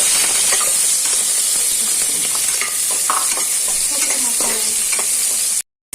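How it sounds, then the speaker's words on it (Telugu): Green chillies hit well-heated oil for a Sunday mutton curry, giving a loud, steady sizzle throughout with scraping stirring strokes layered on top; the sound cuts off abruptly near the end. "ఇప్పుడు ఈ ఆయిల్ హీట్ అయింది, బాగా ఆయిల్ హీట్ అయింది కదా, దీంట్లో వేసిద్దాము. ఇప్పుడు మనం ఇది బాగా కలిపేయాలి."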